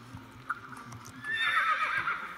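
A horse in Star Stable Online rears and whinnies, a bright, drawn-out neigh rising from about halfway through and sustained to the end, loud and close over a soft game background.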